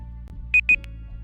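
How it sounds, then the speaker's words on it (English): An alarm set during a stream of The Walking Dead: Road to Survival game gives two short, loud electronic beeps in quick succession, followed by a fainter chirp. "let me just check if this alarm's gonna work."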